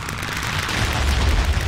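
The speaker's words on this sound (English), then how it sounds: "All right, that's an explosion, all right." A video game explosion, a short, loud, deep boom that rolls on with a low rumble for under two seconds.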